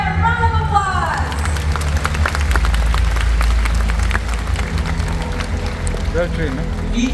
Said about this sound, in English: Let's give Sapphire a round of applause.